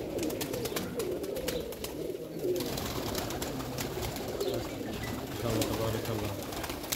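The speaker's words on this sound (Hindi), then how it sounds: "बहुत अच्छे कबूतर हैं" A flock of high-flyer pigeons on a rooftop coos and rustles close by, a continuous low burbling with flapping and scuffling throughout.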